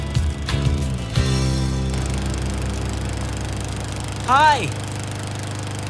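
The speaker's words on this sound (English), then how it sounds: "You're mowing the lawn." A lawn mower engine hums steadily at a constant drone beneath the scene, with a few clunks near the start and a voice calling out a greeting partway through.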